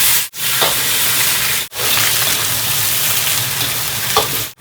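Chicken legs frying in a hot wok with Sichuan peppercorns, scallion, ginger, garlic, dried chilies and spices, a loud continuous sizzle with brief sharp dropouts as ingredients are stirred.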